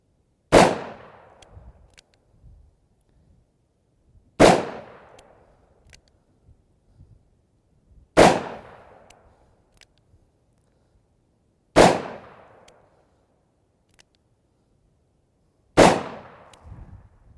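Five loud, sharp shots from a Smith & Wesson 686 .357 Magnum revolver fire at an even pace about four seconds apart, each cracking hard and ringing out briefly before near-silence, with no talking.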